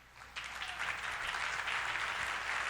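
A church congregation bursts into steady applause that swells quickly and holds at a fairly even level, a dense wash of many hands with no talk over it.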